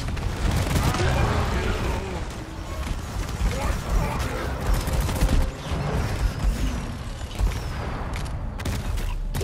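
Grenade blast and bursts of gunfire in the co-op shooter Deep Rock Galactic on PS5, dense rapid shots and booms running continuously with a loud low rumble throughout, with players' voices mixed in.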